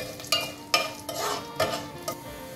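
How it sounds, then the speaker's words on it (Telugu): Lentils, cumin and chillies fry in hot oil for spicy cabbage, making a close sizzle broken by five or six sharp scraping stirs of a spoon against the pan. "నూనె వేడైంది కదా, దీంట్లోకి మనం పప్పులు, జీలకర్ర, మిర్చి వేసి దూరగా వేయాలి."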